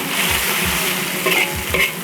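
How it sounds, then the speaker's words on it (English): Flat leaf noodles and bean sprouts stir-frying for pad thai, a constant close sizzle with repeated scraping strokes of a utensil tossing the food in the pan. "Give it a quick stir fry."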